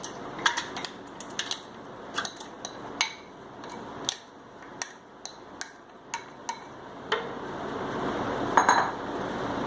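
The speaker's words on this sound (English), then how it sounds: "one by one we'll add all these ingredients into a blender" Drink ingredients such as black salt, mint leaves, sugar, curd, pineapple and ice cubes go one by one into a blender jar, making a series of bright clinks and knocks against glass and utensils at an irregular pace, close and clear.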